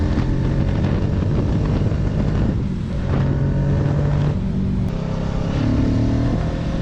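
A restricted A2 Kawasaki Ninja 650 40th Anniversary Edition hums steadily on the road, its engine drone shifting pitch under loud, constant wind roar, with no talking.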